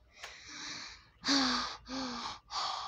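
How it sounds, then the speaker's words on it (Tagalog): Close, loud heavy panting from a person out of breath after running: a short gasp, then three strong, raspy exhales. "Nahingal tuloy ako."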